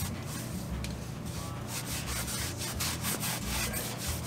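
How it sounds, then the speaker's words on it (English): A cloth or rag rubs steadily against a Toyota Land Cruiser brake rotor, wiping off leftover grease during a front axle rebuild; a close, continuous scrubbing sound in quick strokes, with no talking. "now we're going to make sure we take any residual grease off this"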